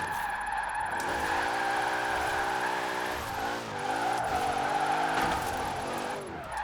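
Dodge Durango "Demon" build on sports tires sliding on the handbrake in Forza Horizon 4: a loud, sustained tire squeal with a wavering engine drone, easing briefly midway before the skid continues, with no talk.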